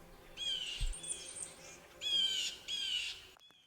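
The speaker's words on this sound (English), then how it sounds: "blue jays do not take kindly to owls being around their perceived territory. Their screeching, sometimes referred to as a jeer" Blue jays jeering at a barred owl in the woods: harsh screeching calls in several bursts, loud and fairly near, with a brief low thump early on.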